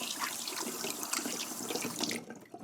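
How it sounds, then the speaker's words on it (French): Hands rinsed under a running tap, a steady close splashing stream of water that briefly thins and changes near the end, with no talking. "Je vais me rincer les mains."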